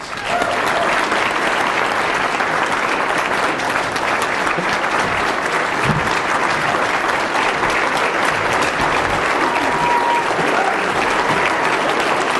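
Sustained audience applause at a gala welcoming Ted Cruz, dense steady clapping from a large crowd lasting the whole stretch with no break.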